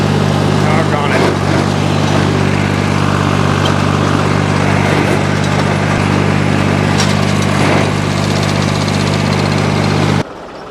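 A hay mower's engine runs loudly and steadily in a thick grass field, a constant droning hum close by that cuts off abruptly near the end.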